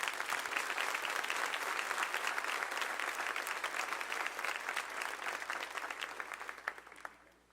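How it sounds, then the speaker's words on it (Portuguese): A church congregation applauds together in sustained, dense clapping that holds steady, then thins and fades out at the end, with no voices standing out. "Você pode aplaudir a Jesus?"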